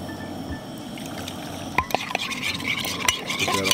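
Fish soup stock with a splash of dill pickle juice being stirred in a pot at a lakeside camp, with liquid sloshing and a few clinks of the utensil against the pot, close and moderately loud.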